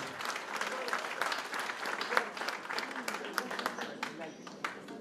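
An audience claps for a municipal council candidate being introduced in Greece. The applause is dense, steady and fairly loud from start to finish, with scattered sharper individual claps rising out of the crowd.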